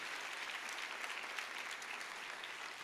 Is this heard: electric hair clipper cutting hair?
no